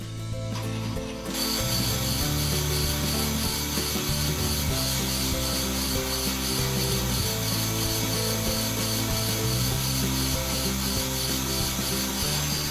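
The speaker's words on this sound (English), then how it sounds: "Now we will make one final pass using the fine cut." A brake lathe takes a final fine cut on a car brake rotor, giving a steady, close grinding whir with a constant scraping tone that runs unbroken for the whole stretch after a brief start.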